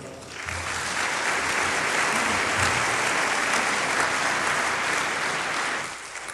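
An audience applauds to welcome a speaker at a 1993 talk, with steady clapping swelling quickly, holding for several seconds, then tapering off.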